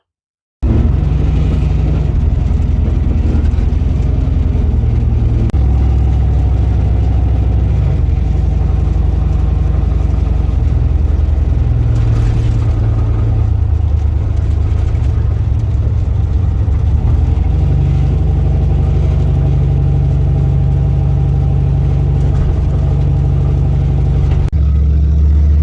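Pickup truck engine warming up and revving in a shop after an alignment, a loud close idle rumble with several rises and falls in pitch as it is revved, running the whole time.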